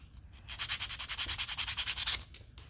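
Hand sanding a small wooden wagon part makes quick, rhythmic back-and-forth scratchy strokes, about a dozen in a steady run, close and fairly soft.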